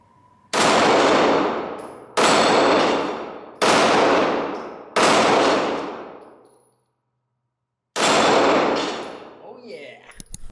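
Five loud, sharp Glock 17 Gen 5 pistol shots ring out one at a time, with four in a steady rhythm about a second and a half apart, then a pause before the fifth, each followed by a ringing clang off steel targets and a decaying echo.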